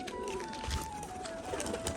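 A pigeon from a colour-matched Giribaz flock coos in low, steady murmurs, with a faint sustained tone running over a noisy outdoor background.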